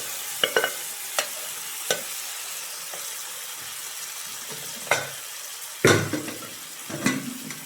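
Sweet corn, beans and onion are stirred in a pan as they cook down, a soft frying hiss broken by scattered clinks and scrapes of the spoon against the pan.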